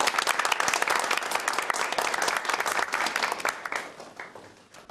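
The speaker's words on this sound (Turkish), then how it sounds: "Bir alkış alalım lütfen." Loud, dense applause from a wedding crowd during the gift announcements, steady at first and then gradually thinning out toward the end.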